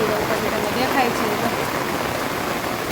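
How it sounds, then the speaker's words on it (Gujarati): Steady rain pours down outside a home, a dense, continuous hiss of falling water with runoff, loud and close, and a voice faintly under it. "કેવો વરસાદ આ બહાર પાણી જો જાય છે"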